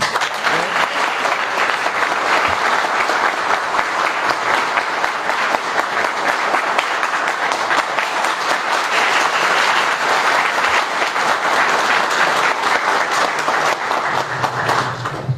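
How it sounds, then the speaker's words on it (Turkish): Sustained, dense applause from an audience at a ceremony in Edirne honoring workers, loud and steady throughout without letup. "ben de hepinizi yürekten alkışlıyorum"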